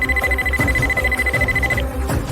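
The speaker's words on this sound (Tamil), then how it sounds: "திடீர்னு அலாரம் அடிக்குது." An alarm goes off with a steady high electronic tone over a rapid pulsing beat, loud and close, then the tone cuts out while the pulsing continues briefly.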